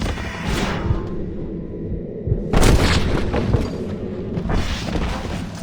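Gunfire in Red Dead Redemption comes as heavy booming reports over a rumbling backdrop, with one especially loud close blast in the middle and further bursts after it.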